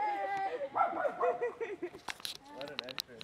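Dogs whine and yip excitedly nearby, mixed with a person's voice talking over them.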